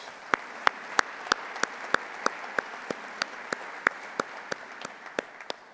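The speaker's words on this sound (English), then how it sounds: "let's give our panel one more round of applause" Audience applause for a panel at an annual business meeting, a steady patter of many hands with a few sharp, close claps at an even pace standing out above it, fairly quiet and with no talk.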